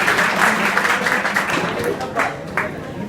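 Students clap in welcome at an inter college adolescence education session, a loud scattered patter of many hands with a few sharper claps standing out, mixed with crowd murmur and a voice.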